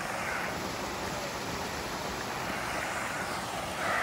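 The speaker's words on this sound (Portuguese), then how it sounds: "Mais uma cachoeirinha aqui, ó. Olha o barulhinho." A steady rush of a small waterfall on a trail near Glaura fills the whole stretch, a constant broadband roar with no breaks and no voices.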